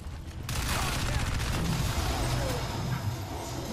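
Rapid gunfire rattles through a multiplayer match of the video game Crysis 3, sustained and loud bursts blending with crashing effects for several seconds, while players chatter over it.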